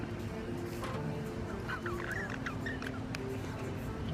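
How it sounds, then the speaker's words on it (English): Backyard farm fowl feeding outdoors give repeated honking and clucking calls over a constant low background hum, moderately distant and fairly faint. "And the birdies are out again."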